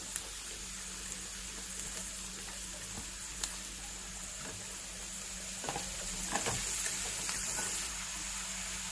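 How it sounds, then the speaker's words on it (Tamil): Carrots and onions frying in a pan for carrot rice, a steady low sizzle with occasional stirring clicks and scrapes throughout, fairly quiet and without talk. "இப்போ நான் கேரட்டையும் கூட போட்டு ஃப்ரை பண்ணி எடுக்கிறேன்"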